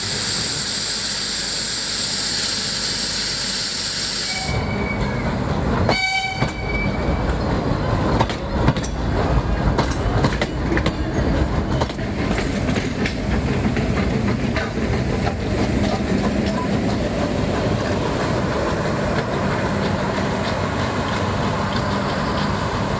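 A mountain railway train in Tamil Nadu rumbles along steadily with a brief burst of clanking and squealing early on, continuous mechanical noise filling the whole stretch.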